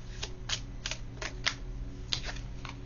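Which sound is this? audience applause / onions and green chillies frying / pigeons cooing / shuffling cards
shuffling cards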